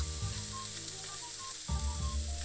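Bread sizzling in butter on a hot grill for a Reuben sandwich, a steady, fairly quiet frying hiss with a brief scraping shift partway through and no talk.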